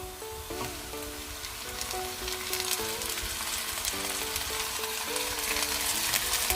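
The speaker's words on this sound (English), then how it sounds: "after sauteing the onions for 2 minutes, I am now going to add in the tuna" Tuna hits a hot pan with onions that were sautéed for two minutes, setting off a steady, crackling sizzle that runs throughout, with some light clinks and stirring taps over it.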